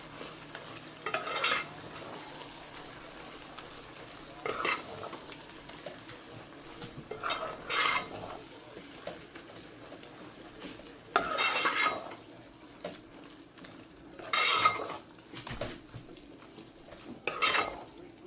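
Keema being stirred in a pan over low heat, with intermittent scraping strokes of a spoon against the metal and a faint background sizzle, each stir a separate burst spaced a few seconds apart.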